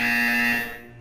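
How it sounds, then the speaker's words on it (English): A loud, steady electronic buzzer from the video game Portal 2 sounds alone for about half a second, then fades. "When you hear the buzzer, look down at the floor."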